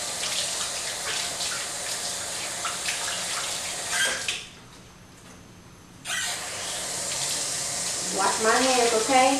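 Kitchen tap water running while hands are washed, a steady broadband rush that stops briefly midway and resumes, with a voice speaking over it near the end.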